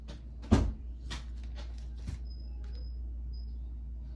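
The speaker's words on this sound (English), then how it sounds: "Shut my door, baby." A door in a home is pushed shut with one solid thud near the start, then a few faint clicks and rustles in otherwise quiet room tone.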